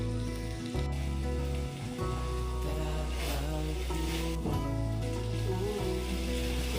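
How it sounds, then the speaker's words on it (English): Finely diced beef browns with taco seasoning in a pot, giving a steady hiss and sizzle throughout while music plays underneath. "I'm starting off this meal today with some finely diced beef from Walmart, and I'm just browning it up with some taco seasoning."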